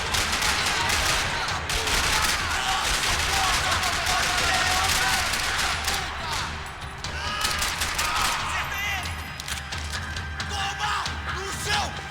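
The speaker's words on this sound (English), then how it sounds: "Another parking lot rattling with gunfire." Sustained gunfire rattles through a parking lot in the video game Max Payne 3, dense bursts of shots and clatter running continuously at loud, steady level with scattered shouts in the mix.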